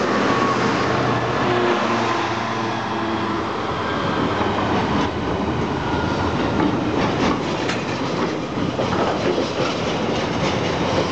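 A Freightliner Class 66 diesel locomotive, number 66505, rumbles past at Eastleigh with rhythmic clickety-clack of wagons on the rails, loud and close throughout.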